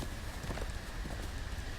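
Horse hooves clatter in a fast, steady clip-clop during a scene in the Telltale Game of Thrones video game, sitting under a dense wash of ambient game noise with no talking.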